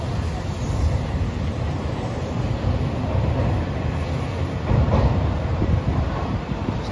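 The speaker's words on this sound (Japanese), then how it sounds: "ちょうど向こう側にはちょうどこの甲子園にふさわしい列車がやってきました" Hanshin train wrapped in yellow Koshien livery pulling into a station near Koshien, a steady low rumble of wheels and motors, with a slight rise in intensity midway through.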